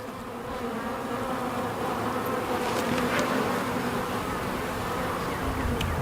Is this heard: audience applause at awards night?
no